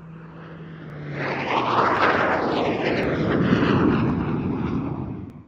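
A Hawker Hunter jet roars past at an evening airshow, a loud, broad engine rush that swells and holds steady before tailing off.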